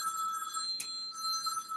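A telephone bell rings steadily with a bright, shimmering metallic trill, fairly quiet and continuous, with one brief louder burst partway through.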